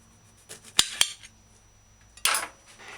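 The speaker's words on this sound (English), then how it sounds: "Cut lime in half." A knife slicing a lime in half on a cutting board gives a couple of sharp close clicks and taps, then a louder scraping cut, against a quiet room.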